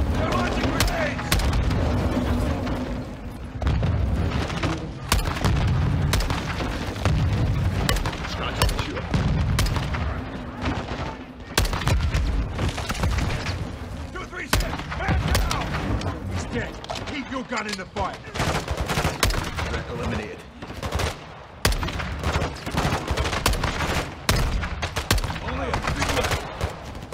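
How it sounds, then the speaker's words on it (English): Sustained gunfire and repeated grenade blasts from a Modern Warfare 2 campaign battle, dense loud bursts and booms running almost nonstop, with radio-style voices calling out over the combat. "They're launching grenades!"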